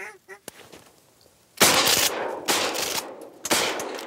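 A loud shotgun blast booms close by during a waterfowl hunt, followed by a couple more sharp reports, with goose-like honking and faint background noise.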